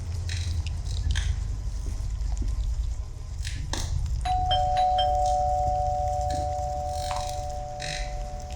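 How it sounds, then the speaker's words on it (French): Electronic doorbell chime in a French horror video game, a sustained two-tone ring entering midway over a constant low ambient drone with faint crunching noises. "J'ai entendu la sonnette."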